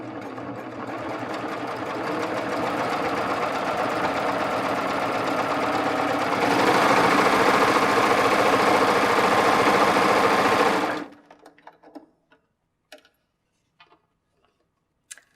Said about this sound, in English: Changing my stitch length along with engaging my differential feed means that I'm going to get beautiful gathers.